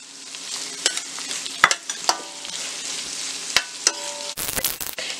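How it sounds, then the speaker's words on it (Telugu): Egg and ridge gourd fry cooking in a pan gives a soft, continuous sizzle, broken by sharp scrapes and knocks of a spoon stirring and a brief loud rustle near the end, heard up close with no talk. "ఎగ్ని బాగా కలిపేసుకోవాలి"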